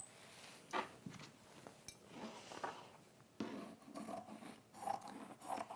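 Quiet, close snips and rasps as scissors rough-cut fabric for a hexagon cushion, with irregular cuts and rustling scattered through, and no talk.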